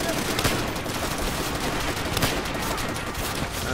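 Machine-gun fire in the video game Call of Duty: World at War, a loud, steady stream of overlapping bursts and rattling shots with no gaps, filling the whole stretch.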